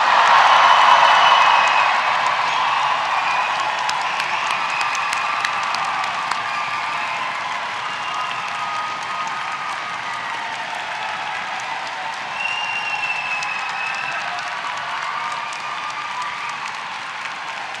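Class of 2024 graduates at a Dundee University winter graduation ceremony breaking into a big sustained roar of applause and cheering with whoops, loudest at the start and then settling into a long, steady crowd wash.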